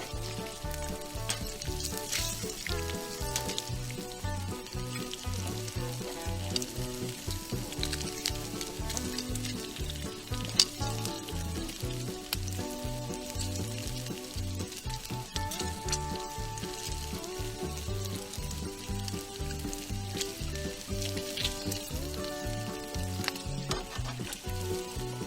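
Bacon sizzles and crackles steadily on a Blackstone griddle, a continuous close hiss of frying fat with occasional scrapes and pops, and no one speaking.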